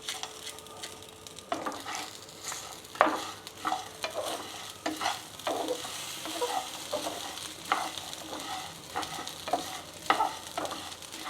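Ingredients for mint chutney, with salt added, dry-roasted and stirred in a hot pan: a continuous close sizzle with rhythmic scraping strokes of the spoon, no voices.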